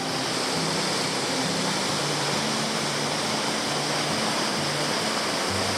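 Water rushes steadily at a tier of Kanching Waterfall, a loud, dense roar with no break, up close and alone with no voices.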